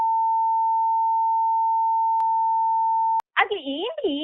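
A telephone line gives a steady, unbroken electronic tone for about three seconds after a call is hung up, then cuts off abruptly as a voice begins talking.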